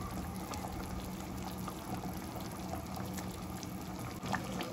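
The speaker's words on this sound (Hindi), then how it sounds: "दो तीन मिनट पकाया मैंने अच्छे से, उबाल भी आ गया है" Tomato gravy for Indian-style meatball spaghetti boils steadily in a pan, a continuous low bubbling and simmering hiss that stays faint and even throughout, with no voices.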